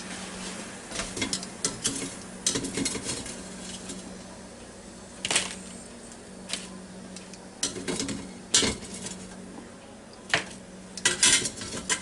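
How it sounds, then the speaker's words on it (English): A Ninja Foodi cooker making fish and French fries, heard as a close series of metallic clanks, clicks and rattles of the lid and basket against a steady low fan hum. "I'm gonna lift the lid."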